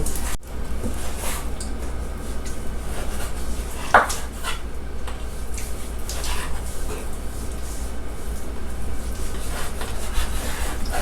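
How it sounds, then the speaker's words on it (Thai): Repeated sharp chops of a knife striking a cutting board while mincing pork, steady and close, with faint kitchen background noise. "ส่วนอันที่หั่นอยู่อันนี้ เราจะเอามาทำหมูสับ"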